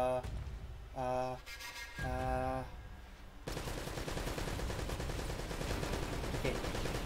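Assault rifle fire in Uncharted: Drake's Fortune, following a couple of short tonal game beeps, then a sustained rattle of rapid shots and battle noise continuing loudly to the end.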